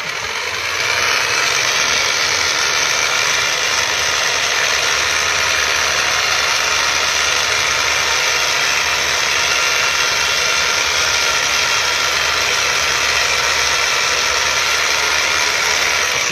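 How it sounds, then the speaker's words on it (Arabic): A Hilti rotary hammer drill runs at low speed, a loud, dense, continuous mechanical rattle and hum that holds steady close by with no talking. "انت بتجيب الهيلتي بتاعك او المضرب بتاعك على اقل سرعة"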